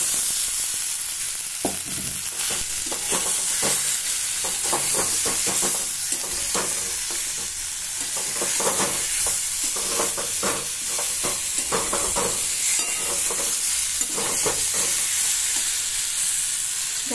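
Boiled potatoes fry in a pan with chopped chilies, giving a steady sizzle broken by frequent clattering stirs and scrapes of a utensil, close and fairly loud throughout with no voices.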